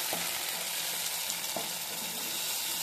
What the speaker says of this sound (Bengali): তো সেই পেস্টটা আমি এখন দিয়ে দিচ্ছি, দিয়ে মশলাটা খুব ভালোভাবে কষিয়ে নিতে হবে ঢেকে ঢেকে